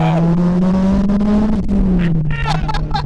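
Loud in-cabin drone of a turbocharged Toyota MR2 engine pulling hard, holding a steady rising tone, then briefly stuttering as it hits the fuel cut, with tire and road noise underneath.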